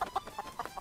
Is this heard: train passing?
no